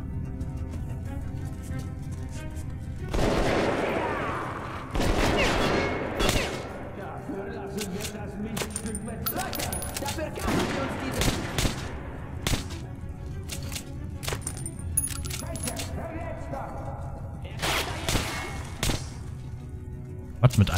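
Repeated bursts of gunfire in the video game Metro Last Light Redux, sharp single shots and rapid volleys, crack across the scene while voices talk intermittently underneath.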